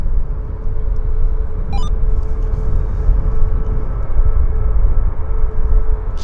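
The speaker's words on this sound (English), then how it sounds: "And here's our Air Canada departure." An Air Canada airliner departing Vancouver Airport, a loud continuous low engine roar and rumble held steady throughout, with a brief faint chirp partway through.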